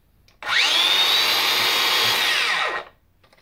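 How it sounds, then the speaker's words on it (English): A Makita XAG20 brushless cordless angle grinder fitted with a heavier grinding disc whines up quickly to a steady high-pitched spin, holds for about two seconds, then the electric brake pulls the pitch sharply down to a stop. "I'll start it up and then just let it turn it off or release the trigger and see how the electric brake slows down the a little bit heavier grind disc"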